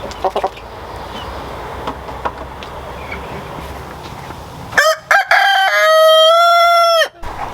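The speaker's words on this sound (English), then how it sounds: "Do you see how big these roosters are getting?" Large young roosters in a chicken coop crow loudly and up close, with one long, strained call that follows a few sharp clucks and squawks over a low, noisy background.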